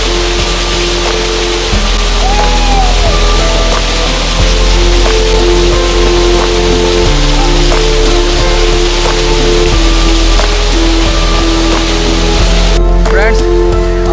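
Usri waterfall in Giridih, Jharkhand, pours in a steady, loud, broadband rush that fills the whole stretch without pause, with a few faint voices and bird-like chirps buried beneath the roar.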